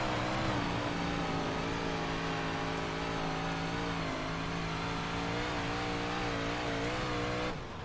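A Big Block Modified race car runs a lap wide open around the middle of the track. Its engine drones loud and steady, with the pitch rising and falling as it holds speed through the turns, and the sound eases at the end.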